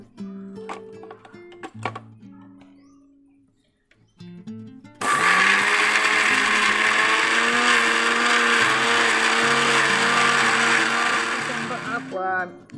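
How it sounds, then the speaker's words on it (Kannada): A mixer grinder blends apples with milk and ice water. After soft music, the motor kicks in abruptly with a loud, close, steady whirring roar for about seven seconds, then cuts off. "ಸ್ವಲ್ಪ ಹೊತ್ತು ಗ್ರೈಂಡ್ ಮಾಡಿ ಆ ನಂತರ ಜ್ಯೂಸ್ ರೆಡಿ. ಬನ್ನಿ ಇವಾಗ ಗ್ರೈಂಡ್ ಮಾಡೋಣ"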